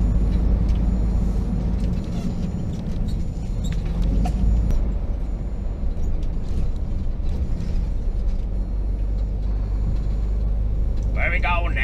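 Lorries roll off a ferry deck: a continuous low diesel rumble with mechanical clunks and a hiss near the end, as heavy trucks move slowly nearby and voices talk over it.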